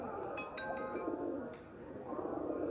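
Racing pigeons kept in a small village loft give a soft, murmuring call, faint amid a steady, noisy background, with a few brief higher chirps scattered through.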